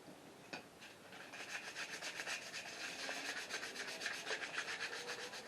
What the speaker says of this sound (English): We'll hit them with just a little sandpaper before we assemble.